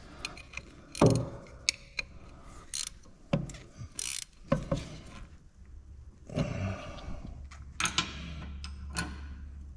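A ratchet wrench tightens bolts on a Brembo brake caliper of a Z31 300ZX big brake kit, giving scattered clicking runs and metallic clanks at close range with no talking.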